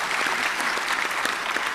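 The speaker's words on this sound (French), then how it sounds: "je souhaiterais aujourd'hui qu'on puisse l'applaudir" An audience at a ministerial panel on structural transformation in Senegal applauds, a dense, steady burst of clapping filling the room with no speech over it.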